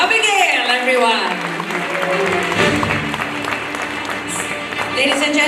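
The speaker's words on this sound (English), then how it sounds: "A bigger round of applause for Abigail, everyone" An audience at a charity running event's philanthropy awards applauds with a dense, continuous wash of clapping while music plays loudly over it.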